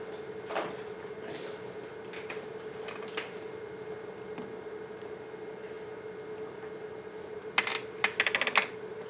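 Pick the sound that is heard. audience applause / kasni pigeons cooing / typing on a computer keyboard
typing on a computer keyboard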